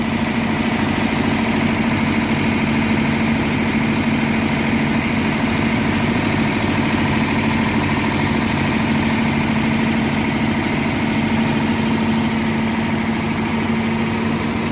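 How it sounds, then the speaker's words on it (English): A 1957 Ford Thunderbird engine, revived after 35 years off the road, idles high and steadily with a constant low rumble and hum, unchanging throughout, no voices. "again, I don't know why it's idling so high"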